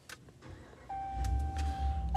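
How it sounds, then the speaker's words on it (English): The push-button start of a 2022 Ram 1500 Sport 4X4 begins with a soft click, then the engine catches and settles into a steady low rumble with a faint electronic tone above it. "Got a push start engine."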